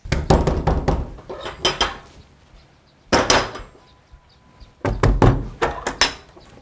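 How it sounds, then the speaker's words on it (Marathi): Knuckles rap on a house door in three separate bursts of quick, loud knocks, each cluster of blows followed by a pause of near silence. "वाजव की दार"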